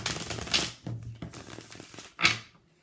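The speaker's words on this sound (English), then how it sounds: "I'm going to shuffle and we're going to get right into it" Tarot cards being shuffled by hand, a few soft papery riffles and taps in quick bursts, close and quiet with no talking.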